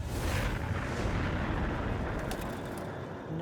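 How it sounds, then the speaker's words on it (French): A deep, rumbling coal mine explosion roars and slowly fades, with crackling debris and faint bursts trailing off. "Il y a eu une explosion dans la mine de charbon."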